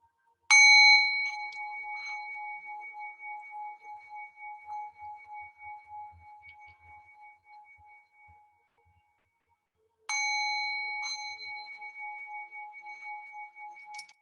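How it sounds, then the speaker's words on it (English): A yoga teacher's sound bell closes an online class: one clear ring that sustains and slowly decays over several seconds, then a second bright strike follows after a pause, each ringing out alone with no talk. "I will ring the sound bell 3 times to allow for a gentle transition back"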